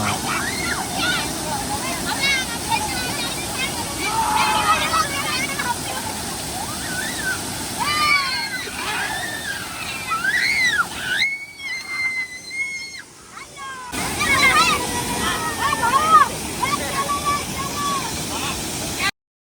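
Wankidi waterfall, a constant rushing roar of falling water heard outdoors, with people talking and calling over it throughout.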